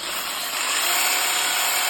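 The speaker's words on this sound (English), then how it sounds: "So quick dab with the drill into that, and then it's a case of not too fast" Power drill polishing the blade of a three-blade Volvo Penta boat propeller, a steady high-pitched whirring grind running continuously and close, with no speech.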